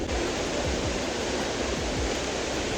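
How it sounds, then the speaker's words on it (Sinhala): Water falling at Biso Ella waterfall makes a steady, close, broadband roar that stays constant and unbroken, with no voices over it. "පල්ලෙහාට ගිහින් බලමු මේ ඇල්ල වැටෙන තැනට ගිහිල්ලා"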